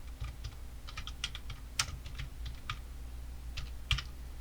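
Fingers typing a sequence name on a computer keyboard while setting up an editing project, a quick irregular run of light clicking keystrokes close up, with no voices.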